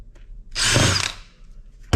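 A power screwdriver spins briefly while backing screws out of an electrical switch being scrapped, a single short whirring burst of about half a second, close and fairly loud, followed by a faint click. No one talks during it.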